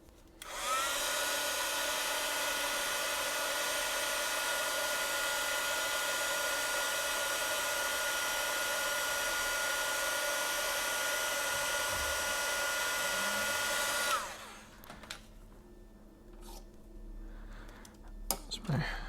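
A heat gun blows steadily for about fourteen seconds while shrinking heat-shrink tubing onto an LED element from a Sansui receiver LED conversion kit, then cuts off abruptly, leaving faint handling noises behind.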